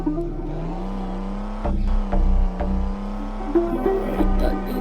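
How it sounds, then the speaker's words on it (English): A car engine in a driving video game cranks and catches, then settles into a steady low idle hum with a few short revving bursts toward the end. "Let's start the engine."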